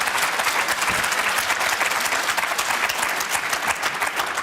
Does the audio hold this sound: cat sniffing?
no